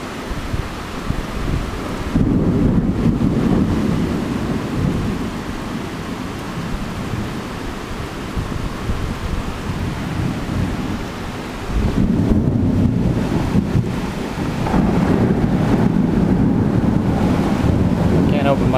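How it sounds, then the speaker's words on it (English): Thunderstorm with gusting wind in Bangkok, heard from a window: a steady roar of wind and rain with heavy surges of rumbling, buffeting noise that swell loudly at intervals, no voices. "This is what it's like almost every time there's a thunderstorm here"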